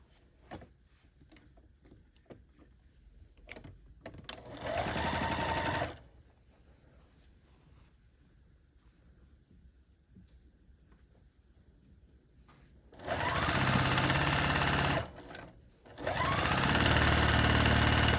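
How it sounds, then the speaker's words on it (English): A sewing machine stitching double nine-patch quilt block units onto narrow fabric strips runs in loud close bursts, one short run then a longer pair after a quiet stretch of faint handling noise. "So I'm going to start sewing these double 9-patch units to these skinny strips in the same way that we did them here."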